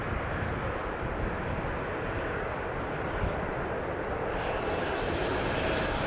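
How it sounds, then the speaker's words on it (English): Distant aircraft engine rumble from a CRJ regional jet taxiing at Amsterdam Schiphol Airport, a steady broad roar with wind noise, continuous and fairly loud throughout with no talk. "if I listen closely, I think the CRJ might be moving"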